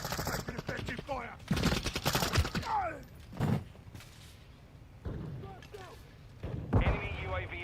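Gunfire in Call of Duty Modern Warfare II from a Kastov 762 rifle: repeated loud bursts of automatic fire in several clusters, with quieter pauses between and game voice callouts over the action.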